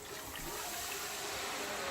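Meat stock poured from a small cup into a pot for goat water, a steady liquid trickle and splash running continuously and fairly close, with no talking.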